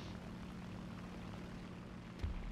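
Enemy propeller aircraft engine in War Thunder, a faint, steady droning hum over low rumble, with a brief thud near the end.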